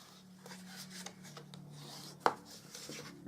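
A folded paper crease is burnished with repeated soft rubbing and scraping strokes, close and quiet, with one sharper tap or click partway through and no talking.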